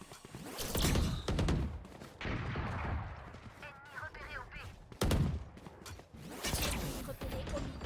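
Gunfire in a competitive online shooter match, with loud bursts of rapid shots, mechanical clacks and creaks coming and going across the scene, layered with in-game sound effects and a voice talking over it.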